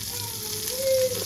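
Cheese chicken kebabs shallow frying in a pan over a low flame give a steady, close sizzle and crackle of hot oil, continuous and even throughout with a faint tonal whine near the end.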